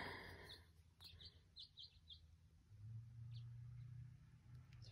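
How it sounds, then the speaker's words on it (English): Birds sing outdoors in a series of short, bright chirps and tweets, fairly faint against a low background hum and rumble, with a few scattered calls after a brief burst of notes. "very nice with the birds singing."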